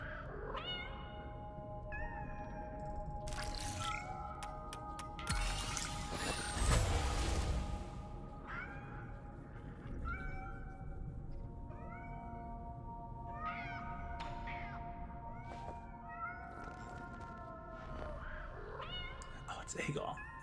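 Several cats meow in repeated, rising calls over a steady background rumble and a passing heavy vehicle with an air-brake hiss, with voices talking at times.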